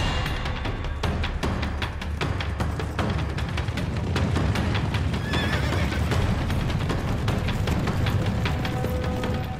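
Wild mustangs gallop across open plains, a continuous fast clatter of many hooves with repeated loud neighs and whinnies rising over the drumming, close and busy throughout.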